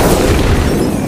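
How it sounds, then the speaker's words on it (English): A car blows up in a film scene, a loud, dense booming roar that rumbles on without a break for the whole second. "the car exploded"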